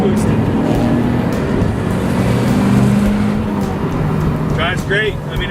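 A turbocharged Mazda Miata running about 10-11 psi of boost with an upgraded fuel setup accelerates hard, its engine note rising loudly and continuously, with a short squeal near the end.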